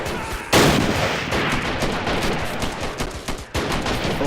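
Dense gunfire in a video game battle between soldiers at Pork Chop Hill, a sharp loud blast followed by rapid overlapping shots and bursts, near and continuous.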